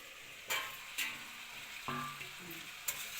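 Mixed vegetables fry in a pan with a soft sizzle, punctuated by a few sharp scrapes and clinks of a spatula stirring them, close and fairly quiet.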